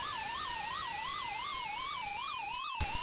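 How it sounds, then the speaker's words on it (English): Electronic siren from the Amstrad CPC game Saboteur, a steady wailing tone sweeping up and down in a regular rhythm, loud and continuous with a faint rising whine beneath, ending with a brief click. "I like the siren noise."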